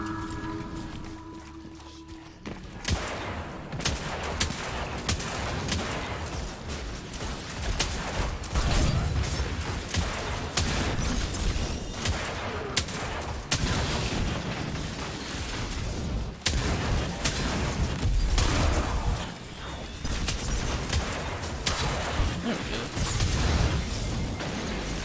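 Hand cannon gunfire in the Destiny 2 Leviathan raid on PC: dense, continuous bursts of sharp shots and mechanical clatter over a steady loud game mix, with no break for nearly the whole stretch after a short quieter opening.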